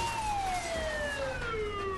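An ambulance siren in the video game Saints Row The Third wails in a slowly falling sweep, fairly loud over a low engine rumble.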